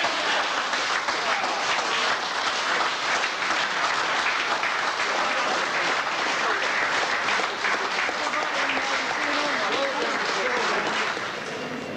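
Loud, dense applause and cheering from a prison audience roars without a break, urging on inmates doing press-ups, and fades slightly at the very end.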